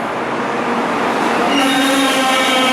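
A double-decker train pulls into a station, its loud broadband rumble swelling as wheels and brakes squeal in rising tones, close and continuous throughout.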